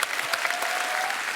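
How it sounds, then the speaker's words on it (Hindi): A comedy show audience claps together in a dense burst of applause that fills the room evenly for a brief stretch, with no voices rising above it. "इस बात के लिए तालियां बनती हैं"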